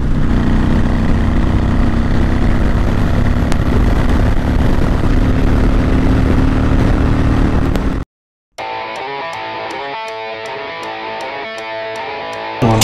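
Loud, steady Honda Fury motorcycle engine roar with wind rush while riding, then a brief dropout and a rhythmic, higher-pitched mechanical throb continuing to the end.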